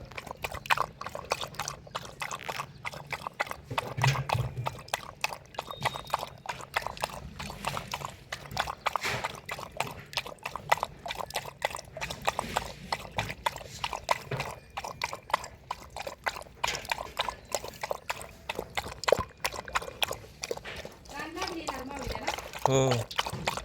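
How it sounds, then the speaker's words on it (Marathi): A dog laps water with its tongue in a steady run of quick wet splashes lasting a long while, and people talk nearby throughout. "कुत्रं कसं पाणी पितं बघा जिबीनं"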